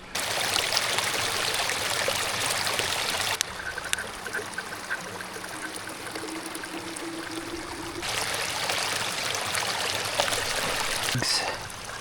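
Water flowing steadily in a stream in snowy Alaskan wilderness, a continuous close hiss and trickle that shifts in level as the listener moves, with faint handling noises.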